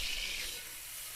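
A bead or two of water is flicked into hot cooking oil and gives off a soft, brief sizzling hiss that fades quickly.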